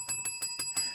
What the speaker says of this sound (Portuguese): bater o sininho